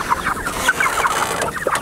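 Pastured chickens in a movable pen at Polyface Farm cluck in a steady, busy chorus, several birds close by with overlapping short calls throughout.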